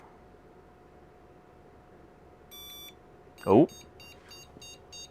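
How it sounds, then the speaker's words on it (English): A 486 DX4-era PC motherboard emits POST beeps: a short tone, a pause, then a quick series of clipped beeps over a low hum, with a brief exclamation from a man in between. "we got beeps."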